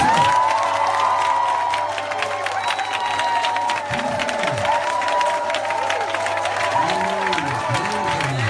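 A church congregation at a Friday praise-and-worship prayer service cheers and applauds in a loud, sustained roar, with shouts and whoops rising over steady clapping.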